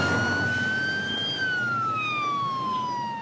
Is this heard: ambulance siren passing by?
yes